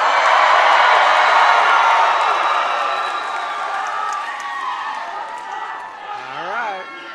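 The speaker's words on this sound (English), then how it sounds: "let me hear your best cheer like you just heard the name of your graduate go across the stage" A large commencement crowd at South Florida State College cheers loudly all at once, a broad roar of whoops and shouts. It fades gradually over several seconds, and a few scattered voices and calls remain at the end.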